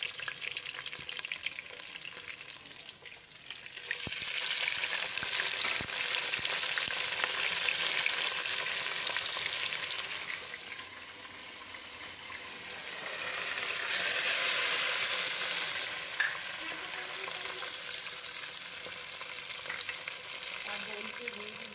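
Biryani ingredients frying in a pot while being stirred, a loud steady sizzle that swells, eases briefly and rises again, with scraping stirs close up and no talk.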